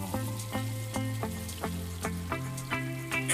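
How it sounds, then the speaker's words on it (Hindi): Green beans sizzle in hot oil with cumin, green chilli, ground ginger, onion and salt in a home kitchen, a steady close frying hiss with repeated soft stirring taps at a fairly even pace. "यहाँ पर भून रही हैं फलियाँ और तेल गरम हो चुका है, जीरा डाल दिया है"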